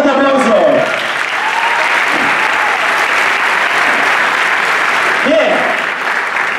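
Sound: audience applause

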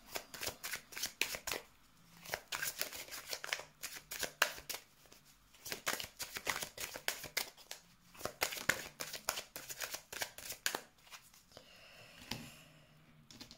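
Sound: shuffling cards for a card draw

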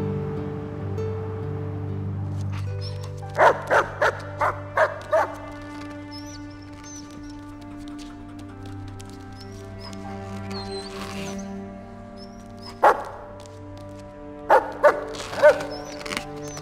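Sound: dog barking and yipping

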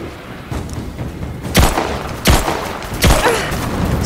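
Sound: gunfire in the video game Rise of the Tomb Raider

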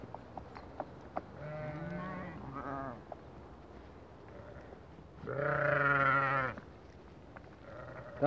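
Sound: sheep bleating on the way to pasture

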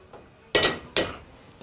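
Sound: ciabatta cubes frying in butter in a pan

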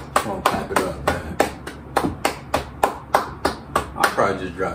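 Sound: hand clapping

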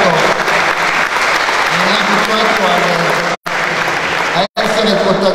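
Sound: audience applause

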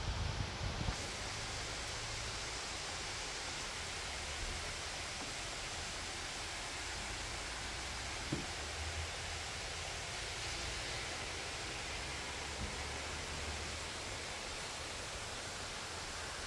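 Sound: rain falling outside

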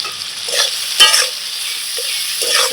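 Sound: potatoes, onions and chillies frying and being stirred

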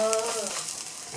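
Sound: payagua beef and cassava patty frying

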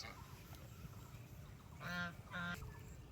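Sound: goose honking

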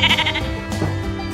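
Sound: sheep bleating

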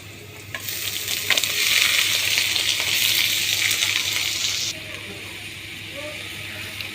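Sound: frying garlic, onion, green chilli and greens in a pan

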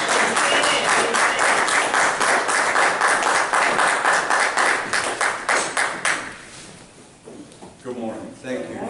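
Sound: audience applause

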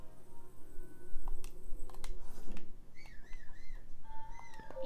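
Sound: Link whistling in video game Zelda Breath of the Wild

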